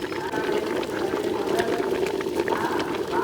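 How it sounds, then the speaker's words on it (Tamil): Water streams steadily into a pot for Jaffna odiyal koozh, a continuous gurgling pour with no talking. "4 தரமாக தண்ணி விட்டு நாங்கள் ஊற்றிட்டோம்"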